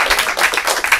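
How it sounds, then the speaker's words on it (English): Audience applause after a lecture, a brief burst of many hands clapping in a steady, dense patter with no voices over it. "If you're clapping, I have an idea."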